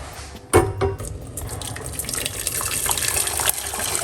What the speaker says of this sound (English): That's about 2 cups of hot water.